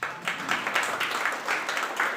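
Moderately quiet applause from an audience at a university farewell ceremony, with distinct rhythmic pulses of clapping heard alone throughout the short stretch.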